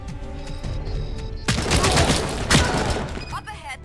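An AK-74 rifle fires in the video game Synthetic Man, a dense burst of rapid shots over game tones, followed by another sharp blast and a few mechanical clicks.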